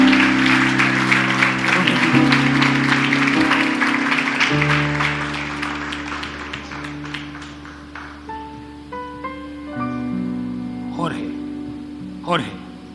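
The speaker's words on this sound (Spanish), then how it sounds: "Denle un aplauso al Señor." A church congregation claps together during a worship service, with broad applause building under sustained organ or keyboard chords and a voice carrying over it, then fading as the music continues.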